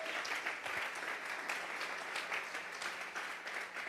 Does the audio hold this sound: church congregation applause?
yes